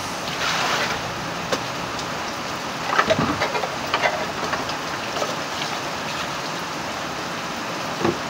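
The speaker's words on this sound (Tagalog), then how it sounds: "Lakas po lalo yung ulan na kapiks." Heavy rain falls steadily in Tacloban, Leyte, a dense, even hiss with scattered louder drips and taps on nearby surfaces, continuous and moderately loud with no talk.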